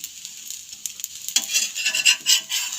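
Chana dal dosa batter spreading on a greased tawa, a soft scraping and stirring rasp that swells into a steady, close sizzle of frying batter, no voices.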